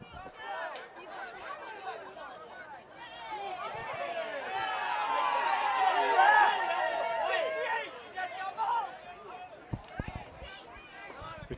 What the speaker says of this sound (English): The crowd's getting a little feisty here in Addison, Texas.